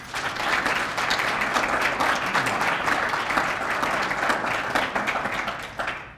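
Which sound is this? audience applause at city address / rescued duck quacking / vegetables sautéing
audience applause at city address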